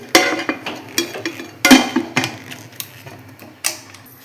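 Metallic clanks and clicks up close as a heavy lid is fitted and twisted onto a pressure cooker holding a ragi chocolate cake tin, a handful of sharp knocks at irregular intervals.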